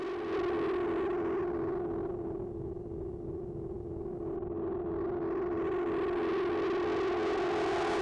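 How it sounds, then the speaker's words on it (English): A Conjured Circuits Cloak+Dagger module driving a synthesizer tone through both drive circuits gives a thick, fat distortion: a sustained buzzing drone that dips slightly in brightness midway, then opens up again, loud and continuous with no voices. "you can hear really, really fat distortion."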